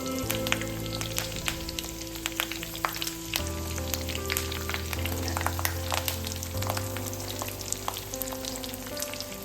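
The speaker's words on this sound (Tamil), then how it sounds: "பொரியிற நேரத்தில் நம்ம கருவேப்பிலை போட்டுக்கலாம். கருவேப்பிலை நல்லா பொரிஞ்சோடனே" Curry leaves frying in hot oil in a home kitchen pan, a steady crackling sizzle with scattered pops, fairly close and continuous, with a low hum underneath and no talk.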